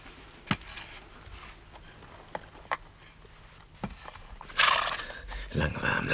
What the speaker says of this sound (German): Das ist Rubens Pferd, das Sie verhext haben